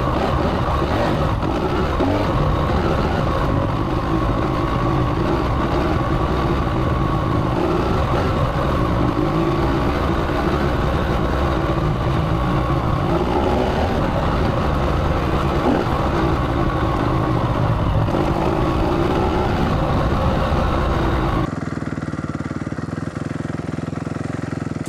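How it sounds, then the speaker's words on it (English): Motorbike engine running steadily and fairly loud for over twenty seconds, a rough continuous rumble, then abruptly cut off, leaving quiet room tone. "So now I'm going to turn the bike off"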